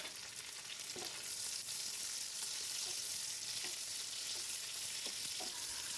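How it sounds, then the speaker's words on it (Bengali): Onion and capsicum fry steadily in a pan for chilli chicken, giving a constant soft sizzle with a few faint stirring clicks and no voices. "পেঁয়াজটা ভাজা হয়ে এসেছে, এবার এর মধ্যে ক্যাপসিকামগুলোকে দিয়ে দিচ্ছি।"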